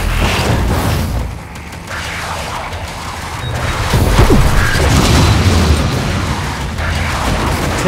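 Turret gunfire in the sci-fi video game Prey, loud booming bursts and pops over a dense, rumbling game soundscape with mechanical noises, no talking.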